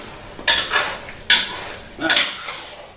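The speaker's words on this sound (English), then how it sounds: "Just stirring." Spoon scraping and clinking around a pot while cooking lasagna on the stove, three separate bright strokes about a second apart, close and moderately loud, with no talking.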